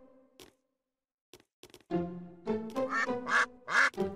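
Cartoon ducks quacking in a Peppa Pig video game, a few sparse clicks and short calls giving way to a run of bright, close, repeated quacks.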